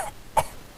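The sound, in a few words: imitation of a cat coughing up a hairball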